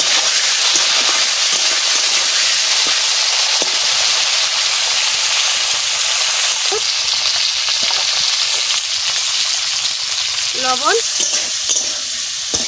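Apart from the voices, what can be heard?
drumstick pieces frying in hot oil with mustard seeds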